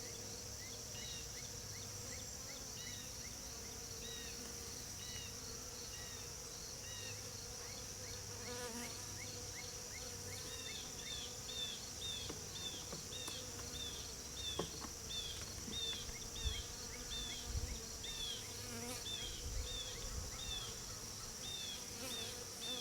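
Honey bees buzz in a steady, dense hum while neglected nucs are inspected, with scattered insect whines over the continuous drone and no one talking.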